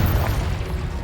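A Confringo fire spell exploding in the game Hogwarts Legacy, a short, loud, deep booming blast that fills the whole moment with no pause.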